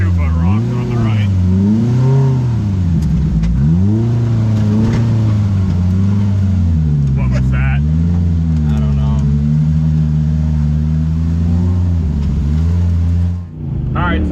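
Polaris RZR Pro R side-by-side on 35-inch tires, its engine droning steadily and loud up close while crawling over rocks on an East Coast trail, with people talking over it most of the time.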